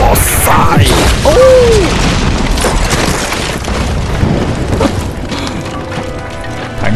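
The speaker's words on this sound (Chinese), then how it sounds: "坦克射杀" A tank cannon shot explodes with a heavy boom and splintering debris in the Uncharted 2 video game, loud and close, followed by rumbling game noise and an excited voice talking over it.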